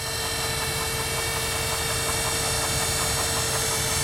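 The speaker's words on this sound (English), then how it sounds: "You can just see it's just sitting there idling." A 1940 Mercury convertible's flathead engine idles, a low, steady, even hum with a faint mechanical whine, continuous and unchanging, with no talking.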